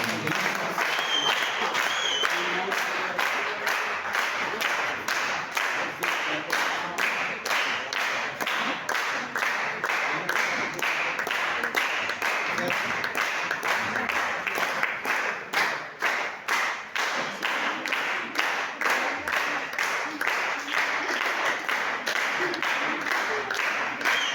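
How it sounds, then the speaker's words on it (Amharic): An audience at a church wedding ceremony in Dila applauds as the couple sign their marriage certificate, sustained dense clapping lasting over twenty seconds, loud and near. "አጨብጭቡላቸው።"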